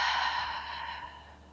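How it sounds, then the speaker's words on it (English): A person takes a deep breath during a relaxing yoga stretch, with a soft, close, airy exhale that trails off slowly over about a second and a half, with no talk. "Take a nice big inhale here. Long exhale."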